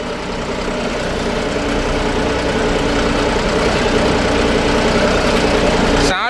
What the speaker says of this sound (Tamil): சென்சிங்கில் போட்டு விட்டிங்கன்னா வண்டி ஃப்ரீயாக போகுங்க.